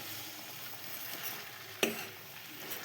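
Faint, steady sizzle of a vegetable curry cooking in a pan, broken by a single sharp clink of the stirring spoon against the metal; quiet throughout, with no voices.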